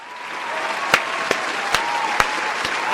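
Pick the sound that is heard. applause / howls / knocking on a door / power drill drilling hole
applause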